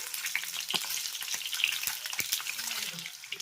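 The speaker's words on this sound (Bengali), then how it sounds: "এই ডিমগুলোকে ছেড়ে দিতে হবে তেলের সঙ্গে ডিমগুলোকে একবার ভালো করে নেড়ে ছেড়ে নেব" Whole boiled eggs dropped into hot oil for a Bihari-style egg curry and turned in the pan: a bright, continuous crackling sizzle close by, with scattered knocks and scrapes of the spoon against the pan.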